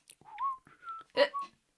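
A short whistled tune of a few gliding notes, clear and fairly close, with brief pauses between phrases and no talking.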